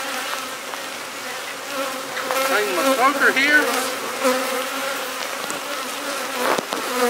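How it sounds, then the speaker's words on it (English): Honeybees hum in a dense, steady buzz around an opened hive after light smoking, close and continuous, while someone speaks briefly over it. "these bees just a little smoked, but they're getting a little hard to work with"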